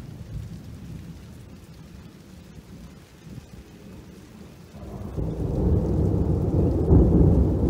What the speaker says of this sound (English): The rain just doesn't seem to stop.